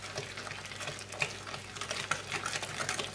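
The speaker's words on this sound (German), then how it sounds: "Und das Ganze wird jetzt im Schneebesen miteinander verrührt" A whisk stirring coconut pudding batter for Brazilian quindim in a bowl, giving soft, fairly quiet, continuous swishing and light clicking against the bowl, with no talking.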